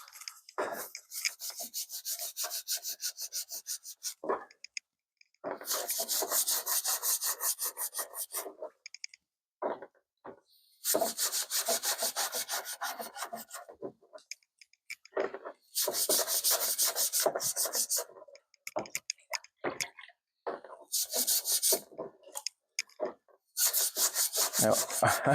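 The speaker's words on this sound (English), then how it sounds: "I'll just grab a bit of a brush there and we'll see what it looks like" A brush scrubs loose rust off a classic Mini car part in bursts of harsh, close rasping strokes, each run lasting a few seconds and broken by short pauses.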